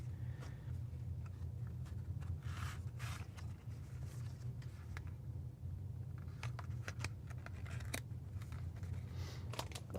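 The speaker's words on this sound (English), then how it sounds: "Listen to that click though. They thunk a little bit better on the keyboard itself." Mechanical keyboard switches on a cheap Chinese-made keyboard clicking and thunking in irregular bursts, close and fairly crisp over a low steady hum, with no talk.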